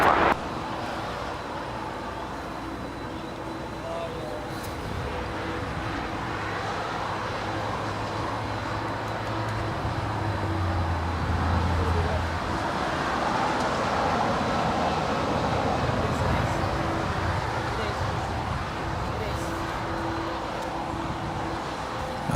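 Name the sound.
heavy Boeing 777 landing on runway 25 left at LAX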